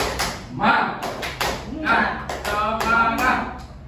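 A group in a school physical-education lesson performs a spirited clapping chant, voices calling out over a run of sharp, rhythmic claps and taps, lively and close.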